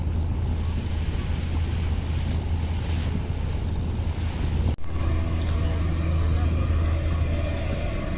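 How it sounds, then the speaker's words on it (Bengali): Steady low engine drone and rushing wind aboard a moving passenger launch, the Eagle 7, on a river bound for Dhaka, loud and continuous throughout with a brief dip midway. "চলন্ত লঞ্চে।"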